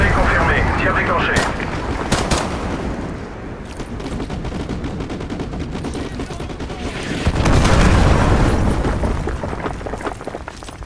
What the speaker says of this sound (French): Mission de tir bien reçue. Pilonnage en cours. Coordonnées confirmées. Tir déclenché.